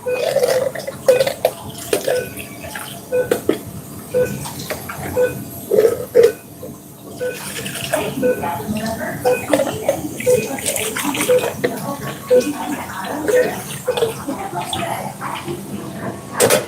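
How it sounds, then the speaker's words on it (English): Butter beans being rinsed under a running tap in a work kitchen, a steady close rush and splash of water lasting throughout, with clattering and a few brief vocal sounds mixed in. "let me just rinse off our beans"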